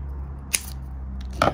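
A pair of scissors cuts a strip for a handmade silver ring: a crisp snip, a pause, then a short cluster of cutting snips near the end over a faint low hum.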